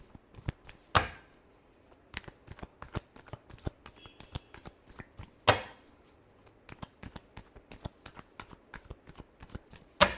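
Tarot cards are shuffled by hand in a steady run of crisp, close snaps and riffles, with two louder slapping bursts, alone and without talk.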